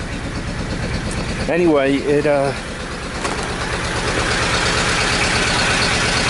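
An old buried Chinese diesel tractor engine running after a cold start, a loud steady close chugging drone that continues throughout, with someone speaking briefly over it.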